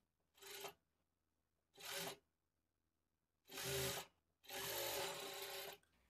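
Sewing machine stitching plain blouse cloth at a quarter-inch margin, running in four bursts: two short runs, then two longer ones, with quiet pauses between, close and clear.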